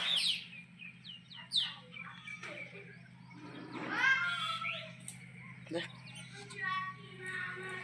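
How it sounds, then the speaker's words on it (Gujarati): Common myna birds call outdoors with sharp, varied chirps and squawks in scattered bursts, moderately near, over a low steady hum with faint voices in the background. "કાબર છે કાબર ઓલી બીજી કાબર આવે ને"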